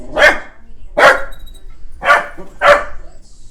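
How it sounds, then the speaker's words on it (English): A dog barks four times, each bark sharp, loud and close, spaced about a second apart with quiet between them. "Oh no, he's barking at something out there."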